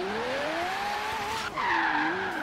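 Car drifting in Forza Horizon 3 on a Logitech G920 wheel, a touchy car sliding with continuous tire squeal over a steady engine drone, the pitch rising and bending as the slide holds, loud and close without talk.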